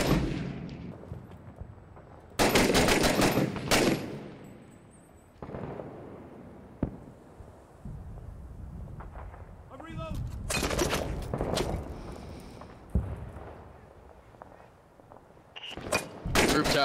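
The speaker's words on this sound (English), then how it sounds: "There's a lot of shooting." Bursts of gunfire and sharp shots in the multiplayer war game Six Days in Fallujah, loud volleys alternating with quieter gaps, with players talking over and between the shooting.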